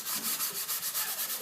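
Hand sanding across a painted, textured surface, quick rhythmic back-and-forth rubbing strokes, close and clear with no talk.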